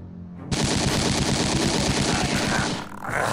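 Sustained rapid automatic gunfire from the World War II tactics video game Silent Storm, a loud dense burst of shots rattling continuously for about two and a half seconds before a brief dip and resumption.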